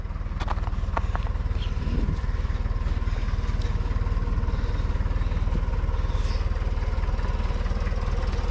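A Case 830 Comfort King tractor with air ride runs steadily close by while being driven up to a barn, its low engine chug continuous and loud throughout with no talk over it.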